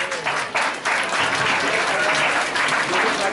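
An audience at a school Janmashtami celebration applauds a Laddu Gopal song performance with dense, steady clapping that stays loud and full from start to finish.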